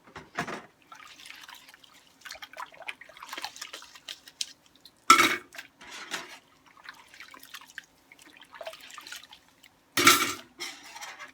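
Dishes and plates being washed by hand in a sink of water, with drips, splashes and soft clinks of crockery and cutlery coming in uneven bursts, two louder clattering knocks standing out, close by and with no talk.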